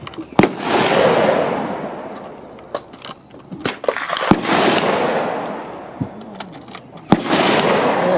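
A vintage cartridge firearm at a Buffalo Soldier history presentation, several sharp loud shots spaced apart, each trailing off into an echoing outdoor rumble.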